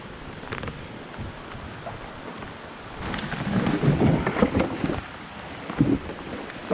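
Thunder rumbles low through steady rain falling on surfaces outdoors, swelling into a heavier roll midway before easing, with no talking.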